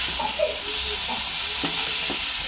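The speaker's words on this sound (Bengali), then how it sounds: "এখানে একটা আলু চচ্চড়ি বসিয়ে দিয়েছি" Potato curry with tomato and peas simmers and sizzles in a pan, a steady close bubbling hiss punctuated by soft stirring scrapes, with no talking.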